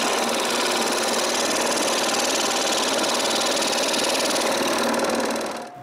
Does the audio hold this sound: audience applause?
no